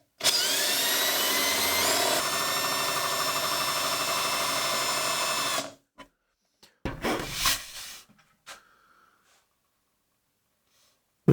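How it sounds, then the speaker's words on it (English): A power drill bores into a half-inch plywood router table top, whining loudly and steadily for several seconds before cutting off, followed by a few brief bursts and handling noises. "I know where on the bit I want to drill down to."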